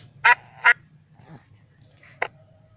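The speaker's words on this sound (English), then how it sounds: "Duck." A duck quacks twice in quick succession, then once more after a short pause; the calls are clear, close and isolated against near silence.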